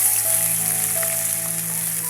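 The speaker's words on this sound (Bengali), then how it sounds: "নিয়ে সেই তেলে আমি পেঁয়াজটা দিয়ে দেব।" Onion frying in hot oil left from cooking potatoes for a dry chicken recipe, a steady close sizzle with faint crackles throughout.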